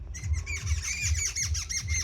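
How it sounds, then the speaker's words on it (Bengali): Small birds call in a quick, regular series of bright chirps, close and moderately loud, each paired with a soft low thump. "পাখি এসছে কিচিমিচি করছে"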